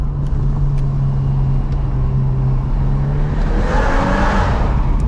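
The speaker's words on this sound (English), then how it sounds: "See what I mean about the air rushing sound?" A VW Golf R Mk8 engine with a Stage 1 tune hums steadily with a rushing, whooshing airflow that swells toward the end, like intake noise building as the car accelerates.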